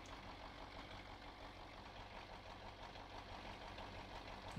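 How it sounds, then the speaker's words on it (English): A truck engine idling in the Spintires off-road game, a faint, steady low rumble holding evenly throughout with no talk. "My engine wasn't quite stalled yet."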